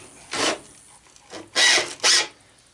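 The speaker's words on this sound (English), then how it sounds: "kind of take a chance of stripping the screws out using power tool sometimes" A power tool backs motor screws out of a pool filter pump in three short whirring bursts, the last two louder and close together, separated by near silence.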